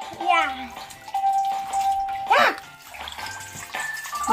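Water streams and splashes out of a plastic bag like a shower during a kids' science experiment, heard close by under excited children's voices and chatter.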